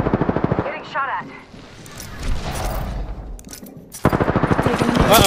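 Rapid bursts of gunfire in the Apex Legends battle royale game, loud and close, rattling through the middle of the clip between stretches of a voice talking over it.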